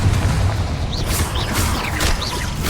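Confringo blasting spell going off in the Hogwarts Legacy video game, a steady booming rumble with several short whooshing bursts layered over continuous game noise.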